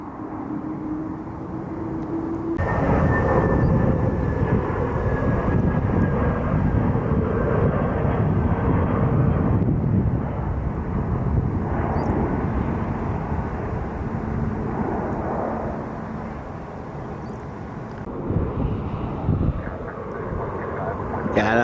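A KLM airliner inbound from Amsterdam passes over Washington Dulles International Airport, its engines a loud, steady roar with a rising whine, mixed with wind noise. A person talks over the aircraft for much of the time.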